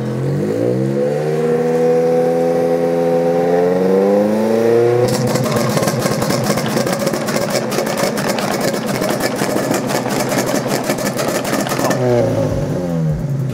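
A Honda Civic EJ9 with a weak battery cranks with a long whining starter, its pitch sweeping upward, then catches and runs at a rough, loud, rapidly pulsing revving idle before the engine cuts off abruptly; no voices.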